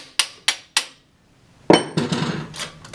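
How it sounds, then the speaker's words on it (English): A hammer strikes a nail set to drive down a jammed coil nailer driver blade: three sharp metallic taps in quick succession, a pause, then a heavier blow followed by a few softer knocks. "I either use a nail set with a hammer, or if you're lucky, save your old driver blades and you can use that. And we're just going to pound that down."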